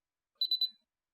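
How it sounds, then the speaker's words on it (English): Three quick, high electronic beeps from an Icare Home tonometer powering off, evenly spaced and clean against silence, then quiet. "Press and hold down the power button until you hear 3 beeps."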